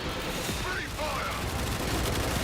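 Gunfire in the video game Warframe, a dense, continuous barrage of rapid shots and bursts that stays loud and unbroken throughout.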